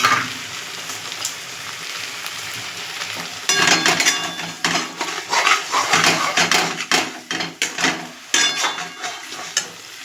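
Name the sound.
stirring soybean coconut dish in a pan over medium heat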